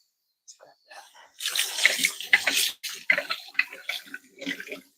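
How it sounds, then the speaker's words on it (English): Tap water running into a kitchen sink while a small coffee cup is washed, with irregular splashing bursts close by and a faint breathy voice mixed in. "I'm just over here at the sink, washing this little"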